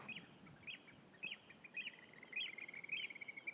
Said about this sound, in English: I hope you can hear those oyster catchers.